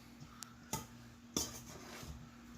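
A spoon clinks and scrapes against a cast iron pan while stirring bread stuffing, a few sharp metallic knocks among quiet soft stirring.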